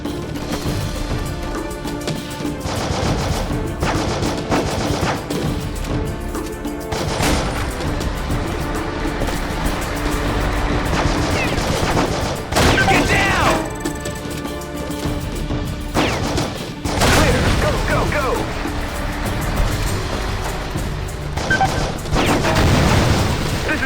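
Gunfire and explosions in the video game Heavy Fire: Afghanistan crack and boom almost without pause, with loud blasts and rattling shots layered over a dense wall of combat noise.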